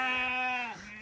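A single sheep bleats close by on a farm in Huai Tueng Thao, Chiang Mai, Thailand, one long wavering tonal cry that drops in pitch near the end, heard on its own.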